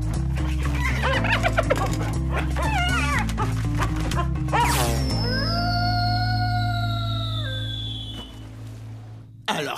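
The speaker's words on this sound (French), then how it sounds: "Alors ça, c'est un bon chien-chien." Cartoon dog from the animated series Robotboy yipping and barking in quick bursts over music, then a long rising whine-like tone trailing off; no speech.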